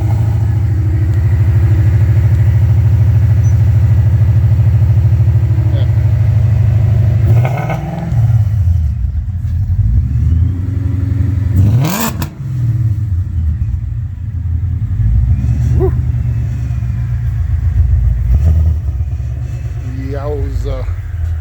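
A 2011 Ford Mustang 5.0 GT V8 rumbles loudly at a steady idle, then sharp throttle blips rise and fall, with people talking nearby between the revs.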